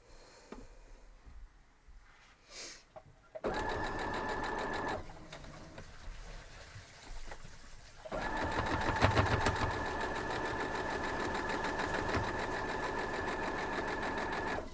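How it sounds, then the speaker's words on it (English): A sewing machine stitching quilt blocks into rows, running in two long steady bursts of fast, even mechanical whirring and needle clatter, with a short quieter pause between them. "I'm just going to pull them from here to there for sewing the rows together, or the blocks into rows"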